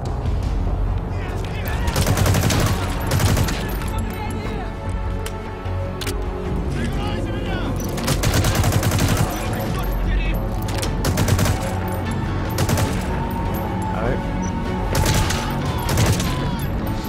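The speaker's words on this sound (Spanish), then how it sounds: "¿Que no se puede con sigilo? Pues a disparos." Repeated bursts of gunfire from the video game Metal Gear Solid V: The Phantom Pain, loud and rapid in clusters across the stretch, with someone talking over the shooting.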